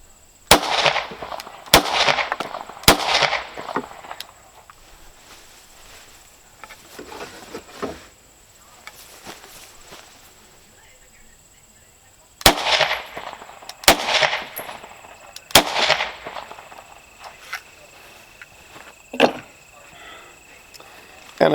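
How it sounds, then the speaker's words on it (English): 9mm rounds fired from a handgun into a safe vest at a shooting test: two clusters of sharp, loud, close shots spaced irregularly, separated by a quieter pause with faint background noise. "it'd be a shame not to shoot them out of the gun"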